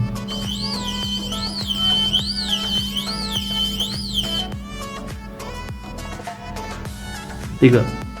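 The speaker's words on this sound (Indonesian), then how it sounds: "maka lampu berwarna merah akan menyala dan buzzer akan berbunyi" A flood detector's steady electronic buzzer tone drones continuously, with a warbling siren-like alarm rising and falling above it for several seconds before cutting out.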